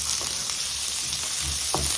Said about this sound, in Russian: Тут у меня уже нагревается 3 столовые ложки растительного масла. Отправляю сюда лучок.